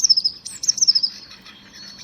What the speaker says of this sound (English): Paul is a blue tit.